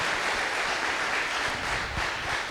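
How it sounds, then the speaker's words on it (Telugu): An audience at a birthday gathering breaks into loud sustained clapping, a dense even wash of applause filling the room without pause. "ఒకసారి గట్టిగా చప్పట్లతో మనం అభినందన తెలుసుకుందాం"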